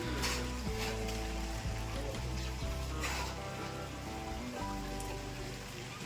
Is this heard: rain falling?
yes